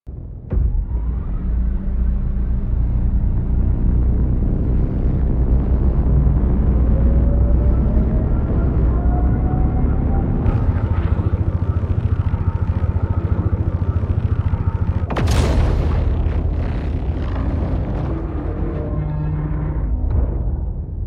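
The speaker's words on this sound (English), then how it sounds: "next we have the Idris railgun firing from the outside" Star Citizen Idris railgun charging and firing from outside the ship: a loud, deep, rumbling wind-up drone with a rising whine that builds steadily, a sharp blast about two-thirds through, then a lingering low rumble as it cools down.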